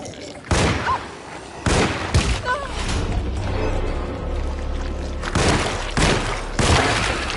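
Gunshots in the Alone in the Dark video game, several sharp separate rounds fired at uneven intervals, loud and close, with a voice talking in between.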